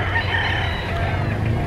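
Chickens at a poultry market in Lipa, Batangas, a brief burst of crowing and clucking fowl, fairly faint amid a busy background.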